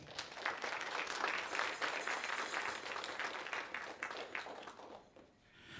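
An audience claps for a dancer at a drum and dance demonstration, a dense steady crackle of many hands that holds for several seconds and thins out near the end.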